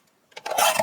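Cardstock for a card panel sliced with a paper trimmer, a short close rasping scrape that builds quickly and stops, heard alone.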